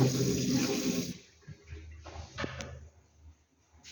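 Water runs from a tap in a hotel bathroom as a soft steady splash that stops after about a second, leaving faint dripping and small handling noises.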